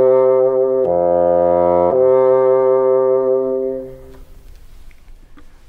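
A bassoon plays a steady, reedy low tone that steps to a new pitch twice in quick succession, holds, then stops, leaving a quiet room with a few soft knocks.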